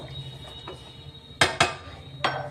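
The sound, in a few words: covering the pot of pulao with a lid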